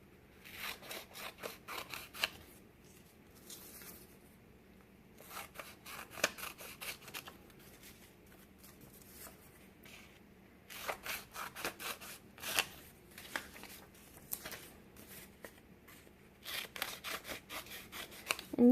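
Scissors cut paper strips in half, with bursts of quick, crisp snipping and rustling that come in several runs separated by short pauses. The sound is close and quiet, with no voices.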